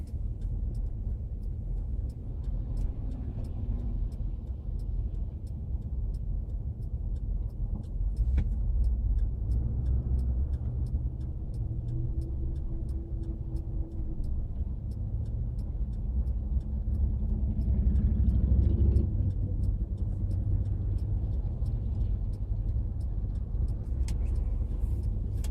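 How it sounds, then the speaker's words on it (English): A car drives slowly along a road, heard from inside as a steady low engine and tire rumble that swells slightly at times and continues without a break and without speech. "Of course, I'm driving kind of slowly to minimize shake."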